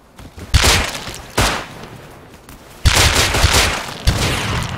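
Gunfire in the survival video game Rust, loud separate shots and short bursts at irregular intervals, sharp cracks with some ringing decay between them.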